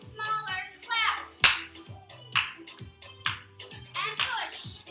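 Hands clapping in a seated chair Zumba Gold exercise class, several sharp, separate claps spaced through the moment, heard near and crisp against an instructor counting and cueing moves over music.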